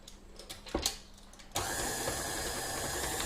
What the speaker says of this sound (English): So I'm just going to put this back on the mixer again.